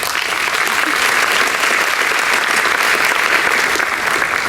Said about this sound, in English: Can we start off by giving John a round of applause?